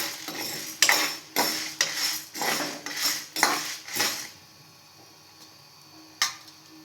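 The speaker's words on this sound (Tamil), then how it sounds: "உளுந்தம் பருப்பு நல்லா வாசம் வர வரைக்கும் நல்லா வறுத்துக்கிடலாம்" Urad dal being dry-roasted in a pan is stirred with a metal spoon, sounding as close rhythmic scrapes and rattles that stop midway, followed by one last clink.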